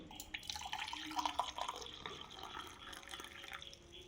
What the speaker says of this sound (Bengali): এবার সুস্মিতা জল ঢালো গরম জল